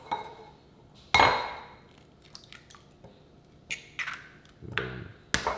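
Four eggs cracked one after another into a bowl in a home kitchen, heard as sharp close taps and clinks of shell on the rim, spaced apart, with faint dripping and clatter between.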